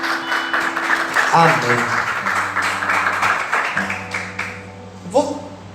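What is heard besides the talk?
congregation applauding in church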